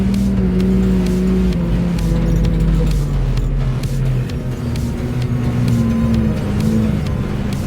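A Scout TV-904 C tractor drives through a muddy field, its engine a loud, steady, close drone with a droning tone that shifts slightly in pitch as it works.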